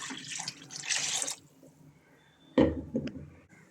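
Mixer jars are rinsed and the water poured into a pot, giving a short splashing gush of running water, then a pause, then a sharper slosh and trickling drips, close by in a kitchen.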